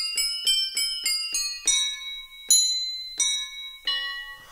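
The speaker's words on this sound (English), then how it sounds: "So there's a Crotales sound." Crotales played on a malletKAT electronic mallet controller ring out as a run of about nine bright, bell-like metallic strikes, each decaying quickly, close and clear with no other sound.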